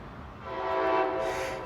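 A Union Pacific intermodal stack train rolls past in Oakland, California, its horn sounding as a loud, sustained tonal blast that swells and then eases off over a rumbling rail backdrop.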